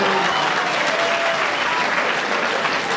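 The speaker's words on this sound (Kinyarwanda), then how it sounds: "Asa wasa mwampaye amashyi mwana mwari" Dense, even applause from a crowd, continuous and fairly close throughout with a faint murmur of voices underneath.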